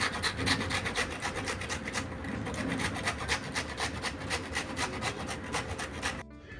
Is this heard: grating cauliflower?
yes